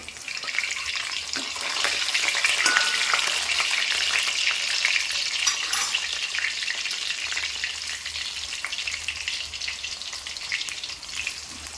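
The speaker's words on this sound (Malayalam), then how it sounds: "എണ്ണ ഒഴിക്കാമെങ്കിൽ നമുക്ക് എല്ലായിടും കൂടെ ഒന്നിച്ചിട്ട് പൊരിക്കാം." Loud, continuous sizzling of colocasia (taro) leaf snacks frying in hot oil, crackling steadily throughout with occasional stirring.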